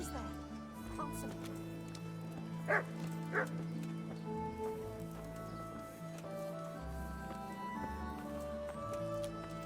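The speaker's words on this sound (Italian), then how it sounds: "Cane." In the medieval Bohemian town of the Kingdom Come: Deliverance video game, a dog gives two short, quick barks over a low, steady background ambience.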